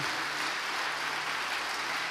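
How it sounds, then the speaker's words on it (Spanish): A church congregation applauding during a service, dense continuous clapping filling the room evenly, like rain, with no voices over it. "Usted le puede dar un aplauso a aquel que deja la palabra"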